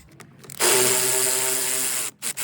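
A 10 mm socket on a ratchet loosens a bolt holding the air hose on a Hyundai Accent, giving a close, steady stretch of dense mechanical rattling and grinding for about a second and a half, followed by a few short knocks.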